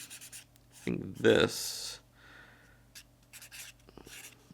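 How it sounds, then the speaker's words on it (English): A pen scratches out a prediction on a small card in short quiet strokes, close and faint, mixed with rubbing and a brief spoken word. "I'm going to write something down here on a little card"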